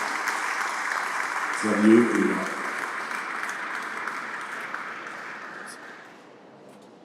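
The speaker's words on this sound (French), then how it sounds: "je crois qu'on peut l'applaudir lui aussi" Applause fills the hall at a museum of aeronautics inauguration, a steady wash of clapping from the audience that slowly fades, with a brief spoken remark near the start.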